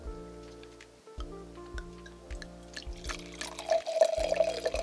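Red Xinomavro wine poured into a glass, a trickling, splashing pour that runs steadily and swells near the end over a faint background hum.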